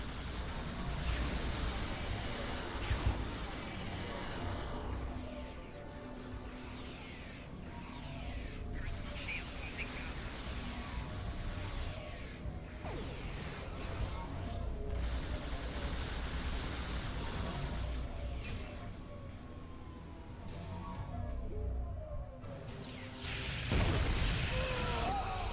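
Star Trek Online space combat with repeated weapons fire and muffled explosions, a busy low rumble punctuated by sharp bursts, fairly quiet overall with faint voices at moments.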